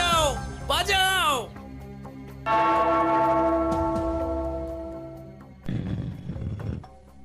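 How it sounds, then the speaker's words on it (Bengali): A bell rings out with long, sustained metallic tones that slowly decay, between bursts of animated cartoon voices before and after. "ওই ঘন্টাটা বাজাও, বাজাও।"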